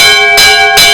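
A loud bell rings at a Ghana Stock Exchange listing. Two close, ringing strikes sound about a second apart, each leaving a sustained metallic tone.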